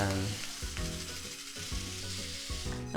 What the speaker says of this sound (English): we're going to roast the sesame seeds